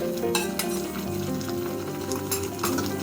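Ginger paste fries with onion and green chili paste in a wok, a dense continuous sizzle with occasional stirring scrapes, close and steady with no voices.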